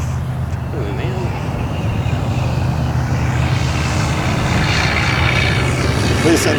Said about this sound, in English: Oh, it's such a nicely flying airplane.